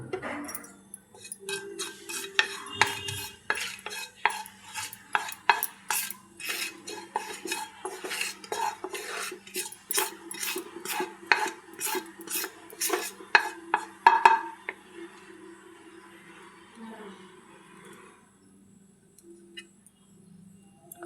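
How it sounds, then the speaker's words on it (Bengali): Black cumin (kalonji) spluttering in hot oil in a wok: rapid, crisp popping and ticking that thins out after a while, over a faint low hum, with no other sound. "কালো জিরে ফুটছে"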